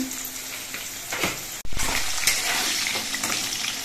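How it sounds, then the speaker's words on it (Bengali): Continuous close sizzle of potato pieces frying in mustard oil, a brief dropout midway as salt is added, then the crackling hiss resumes steadily with faint stirring sounds. "আলুগুলো ভাজার সময় এর মধ্যে একটু নুন দিচ্ছি"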